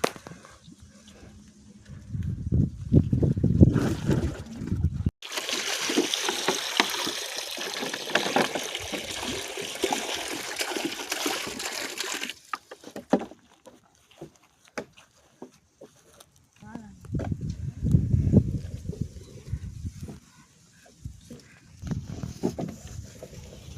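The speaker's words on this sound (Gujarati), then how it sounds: "અત્યારે પાણી ભરીએ છીએ ગાયો માટે અને ભેંસો માટે" Water pouring and splashing while a trough is filled for grazing cows and buffaloes outdoors, a loud gushing stretch in the middle between softer patches of running water, with no talk.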